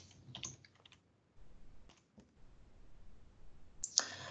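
Computer keyboard typing in quick clustered bursts of clicks with pauses between, close and fairly quiet, ending in a louder burst of keys.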